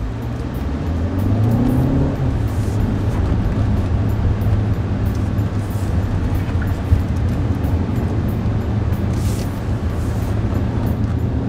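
A 2022 Chery Tiggo 8 Pro 1.6T SUV driven in manual mode gives a steady, loud engine and road rumble. Revs rise briefly near the start, then hold an even drone with no talk.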